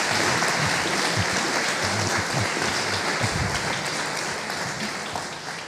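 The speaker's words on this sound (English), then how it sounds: "Oh, you can clap that if you like." Audience applause at the Royal Irish Academy before a conversation with Nobel laureates in chemistry, steady crowd clapping that slowly fades toward the end.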